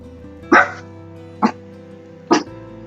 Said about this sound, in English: Excuse the puppy in the background.